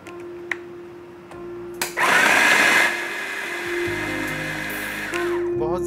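A food processor runs to shred chicken with masala into fibres for resha kabab, with a loud whirring burst after a couple of clicks, then a steady lower hum that rises again near the end.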